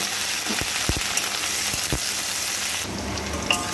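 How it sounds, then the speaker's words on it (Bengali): A potato fries in hot oil in a wok with a steady bright sizzle and crackle, dotted with occasional small pops and a few faint clinks. "এবার এই তেলের মধ্যে একটা আলুকে একটু ভালো করে ভেজে নেব।"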